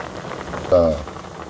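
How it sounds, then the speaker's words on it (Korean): Potatoes boiling in a pot in a Korean countryside kitchen make a soft, steady bubbling, with a short voice sound cutting in briefly partway through. "감자는 끓고 있고."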